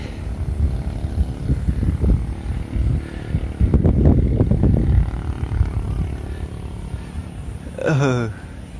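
A KFPLAN Z61 RC model airplane, a semi-scale Messerschmitt Bf109 fighter with a propeller engine, circles on its maiden flight with a steady buzzing drone that swells loudest midway, then a brief rising whistle near the end.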